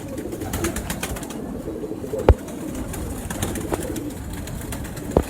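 Pure breeder pigeons coo in a low murmur under a steady background hum, with a couple of sharp knocks or taps, nearby and with no clear talk.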